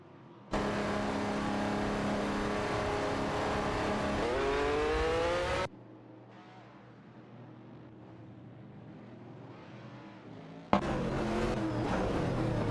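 Simulated race cars roaring along a track in an AI racing league, loud sustained engine drones with rising pitch as one car accelerates, an abrupt cut to a quieter engine hum, then another loud burst near the end.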